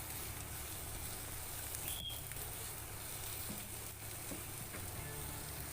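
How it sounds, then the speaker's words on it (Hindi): Onions sizzle steadily in hot oil in a pan, a faint, even crackle and hiss that carries on throughout with no talking. "यहाँ जब तक ये पिंक नहीं हो जाएगी जब तक इसको मैं फ्राई करूँगी अच्छी तरीके से"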